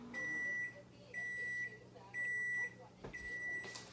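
A microwave oven heats french toast in a home kitchen, its hum broken by a series of four loud electronic beeps at regular intervals, with faint background noise between them.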